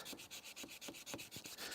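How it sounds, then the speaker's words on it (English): A sanding stick rubs back and forth along a wooden edge, working into a tight corner to clean up plunge cuts, giving about seven quiet, rhythmic abrasive strokes close by with no talking. "I really like this edge on the sanding stick because that really allows me to get in tight and close and clean up plunge cuts"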